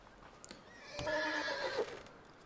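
A horse in the video game Red Dead Redemption 2 gives one loud, close whinny lasting under a second, with soft hoof clops before it and no talk.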